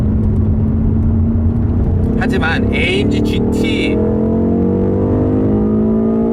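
A BMW M8 Gran Coupe's sporty engine hums in a steady, loud drone from inside the cabin while driving, running beneath someone talking throughout.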